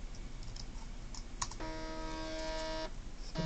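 A stepper motor spins fast in test mode at 2 millisecond steps, giving a steady high whine with stacked tones that holds for over a second over background noise, with a few brief clicks around it.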